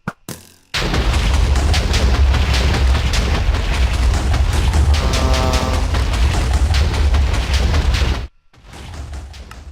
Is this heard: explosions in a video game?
yes